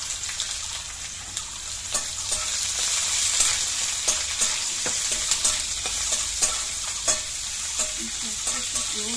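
Chopped onion frying in oil in a pan with dried red chilli and garlic, giving a steady, close sizzle broken by repeated scraping clicks of a spoon stirring.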